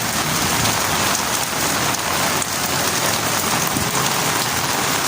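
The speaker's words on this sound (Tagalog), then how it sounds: "Lakas ng ulan." Heavy typhoon rain pours steadily in Eastern Samar, a dense, constant roar of rainfall drumming on surfaces with no pauses, loud and close throughout.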